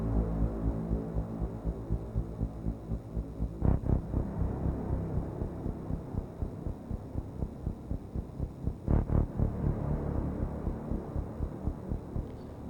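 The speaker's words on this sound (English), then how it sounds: "I was able to preserve the tremolo effect, but we also have that nice reverb in the background." Ambient music track with a throbbing tremolo effect and a lush reverb tail from the Valhalla Supermassive plugin, a steady low drone pulsing in regular waves, with two brief brighter swells standing out.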